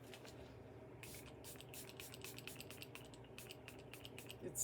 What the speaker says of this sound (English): Super Fix setting spray.